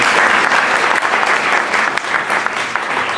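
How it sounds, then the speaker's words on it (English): A room of guests at an Asian Sunday launch event claps loudly for a young councillor's speech, a dense, sustained burst of applause with no break. "I think a round of applause."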